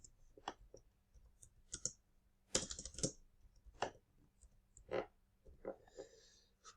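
Fingers type on a computer keyboard while working in a spreadsheet, irregular bursts of close, quiet key clicks with short pauses between runs.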